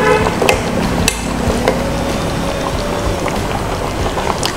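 Goan fish curry simmering in a pot, close bubbling and soft liquid plops with a few sharp clicks, steady throughout.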